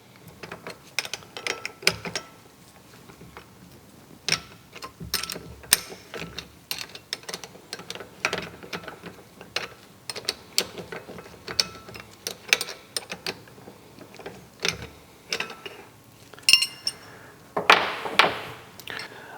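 A ratchet turns a 14 mm nut on a Mustang coilover strut mount in quick clicking bursts and metallic taps, close and irregular, with short pauses and brief handling noises between.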